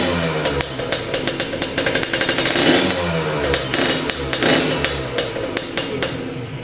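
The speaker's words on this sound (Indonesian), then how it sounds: "Nah itu seperti itulah cuplikan suara knalpotnya." A Kawasaki Ninja 150RR two-stroke motorcycle idles close by through its exhaust, a rapid popping burble with occasional blips of revving, loud and alone.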